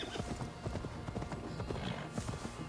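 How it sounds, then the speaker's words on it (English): Hooves clip-clop steadily from a horse in the video game Assassin's Creed Valhalla on PS5, a brisk, even rhythm close by, with an occasional faint whinny and brief speech in the background. "Is this my horse?"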